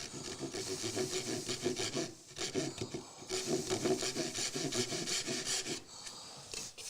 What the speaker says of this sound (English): I'm blowing on there to get the dust clear so I can see my line